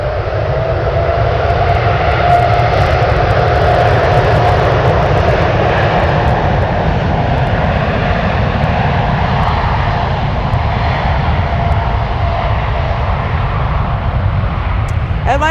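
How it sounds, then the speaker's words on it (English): Japan Airlines jet taking off from runway 28 Left at San Francisco, a loud, continuous engine roar heard from a distance that holds steady for the whole span with no break. "That is Japan Airlines Flight 57 heading to Tokyo Narita."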